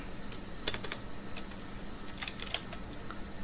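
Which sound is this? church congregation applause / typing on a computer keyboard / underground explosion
typing on a computer keyboard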